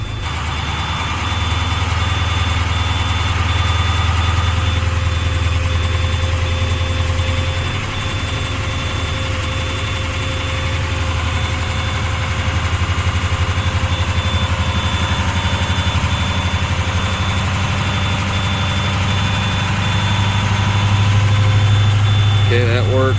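Navistar VT365 diesel engine, with an oil leak and a long-crank no-start fault, running at a raised idle. The low, steady idle drone holds evenly throughout and rises slightly near the end.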